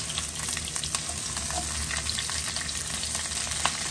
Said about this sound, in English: I'm going to just sear that over a hot heat for a couple of seconds first